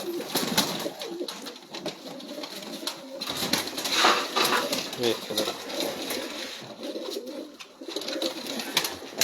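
Old pigeons coo repeatedly in a loft, soft throaty calls rising and falling close by while people talk over them.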